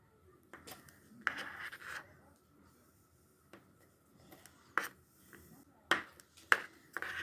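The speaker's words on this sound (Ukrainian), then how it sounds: "Спочатку я відріжу тако пару кусочків і зроблю з них такі кубики." A knife cutting homemade cheese into small cubes on a board, heard as a few separate sharp taps and thuds spaced out over quiet moments, close and fairly soft.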